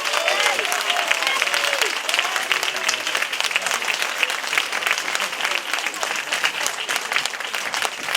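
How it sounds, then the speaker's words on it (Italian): An audience at a local theatre performance in Rocca San Felice gives the young performers sustained, dense applause, a loud continuous patter of many hands clapping throughout. "ci corre l'obbligo di salutare, è vero, e di applaudire ancora una volta questi meravigliosi ragazzi"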